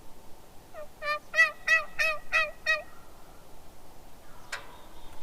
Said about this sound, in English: See the second one? I think he gobbled.